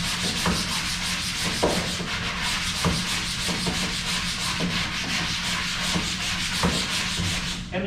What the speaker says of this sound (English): we are going to scrub the entire print side of the screen